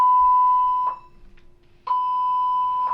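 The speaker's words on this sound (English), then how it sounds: "Ready for the emergency signal?" Emergency signal alarm sounding inside a cabin on the Navigator of the Seas cruise ship, a loud steady electronic tone broken by short pauses into repeated long blasts, heard alone.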